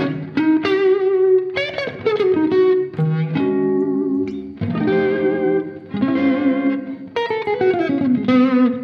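Electric guitar chords and riffs on the neck pickup, played through a budget effects pedal into Celestion V30 speakers miked with an SM57, with a washy reverb tail ringing after each phrase; no talking.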